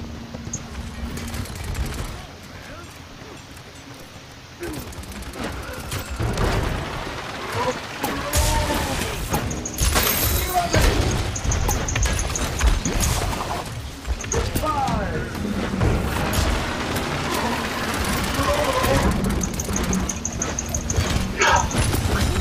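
Gunfire in the video game Paladins: bursts of rapid automatic shots and scattered single blasts crackle through busy in-game effects, with near, loud volleys recurring across the stretch.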